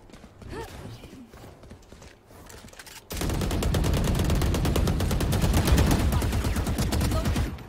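Gunfire in the tactical shooter Valorant: after a quieter stretch with faint voice and game noise, a loud, dense burst of rapid automatic shots runs continuously to the end.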